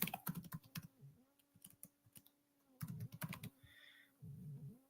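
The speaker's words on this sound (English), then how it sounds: "when you go over to Gematria and you type in the word Catholic" Keys clatter on a computer keyboard as a word is typed into an online gematria calculator, in quick bursts of clicks with short pauses between them, close and fairly loud with no talking.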